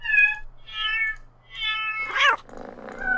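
Meows and a short hiss from a cat in the video game CATS, several separate drawn-out cries followed by a breathy hissing burst, clear and close with no talk.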